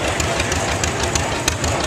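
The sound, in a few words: 1939 John Deere L tractor engine running in parade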